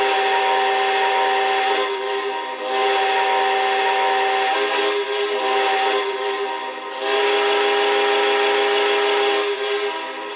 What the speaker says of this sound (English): you do have what's called the multi-whistle effect, and what that does is that the whistle plays at random